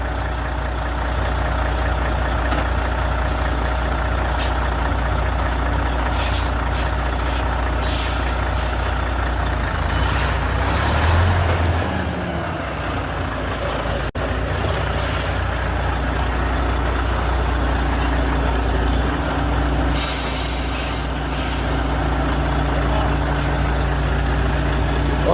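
A truck engine idles steadily with its air compressor running, a constant close rumble and hum under occasional faint hissing, continuing without pause and with no talk.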